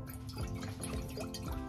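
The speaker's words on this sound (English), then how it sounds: "Now I'm going to pour this matcha into the..." Matcha poured into a glass mason jar, a short close liquid gurgle with small drips and splashes.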